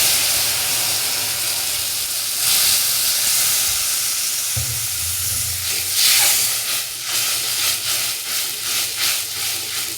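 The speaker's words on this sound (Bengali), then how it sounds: "এবারে দিয়ে দেবো জল, হালকা করে জল দেবো" Water poured into a hot pan of gujiya filling hisses and sizzles steadily and loudly for the whole stretch, with some crackling toward the end.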